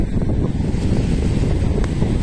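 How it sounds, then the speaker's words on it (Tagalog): Strong, steady wind roars and buffets over churning water, a constant broadband rush with no voices. "Ang lakas ng hangin, no?"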